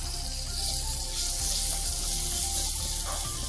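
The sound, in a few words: cashews and almonds frying in ghee with roasted semolina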